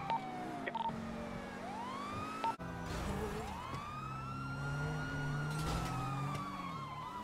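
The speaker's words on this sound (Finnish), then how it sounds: "No nyt kuuluu pille." Police car siren wailing in rising and falling sweeps, fairly distant and faint, heard behind ongoing rumbling and noise from a chase scene in a roleplay game.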